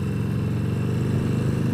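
A Harley-Davidson Sportster motorcycle engine pulls hard at low RPM, a loud, close, steady throbbing rumble that holds without a break.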